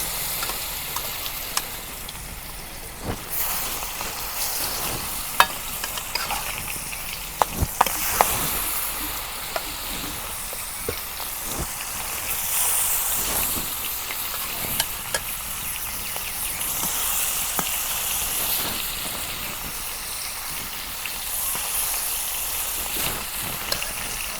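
Pieces of pangas fish frying in hot mustard oil, a steady close sizzling hiss with occasional sharper spits and pops throughout, no voices.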